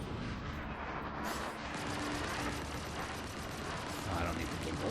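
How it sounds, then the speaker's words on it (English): Ship weapons firing at two AI ships in a player-versus-AI bounty in Star Citizen, flown in a Vanguard Sentinel: a dense, continuous barrage of booming, crackling shots over a loud rumbling background, with a voice talking over it. "So I'm going to go ahead and start shooting and see what we can do."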